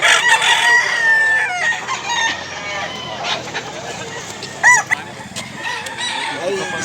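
A rooster crows amid a busy flock of clucking chickens for sale in Mantalungon, Cebu, with other crows and cackles overlapping, fairly close and loud throughout.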